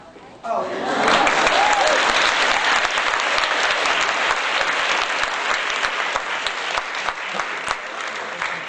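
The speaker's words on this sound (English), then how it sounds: "We're supposed to be clapping" Applause breaks out from an audience at an adult school conversation event, starting suddenly and holding as a dense, steady clapping for several seconds, with louder individual claps standing out.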